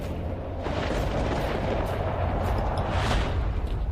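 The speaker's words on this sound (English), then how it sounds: "There are some powerful anomalies, some of the worst. There's one going off right now, that's big." A large anomaly discharging in the Red Forest of the STALKER: Shadow of Chernobyl game, a sustained deep rumbling roar with crackling bursts that swells near the end, loud and continuous with no talking.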